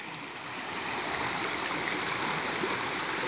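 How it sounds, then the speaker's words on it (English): Mineral spring water flows steadily at Bath Fountain, Jamaica, a continuous close rushing and splashing like a stream or small waterfall that swells slightly in the first second and then holds level, with no voices. "you could hear this water that relaxes the body"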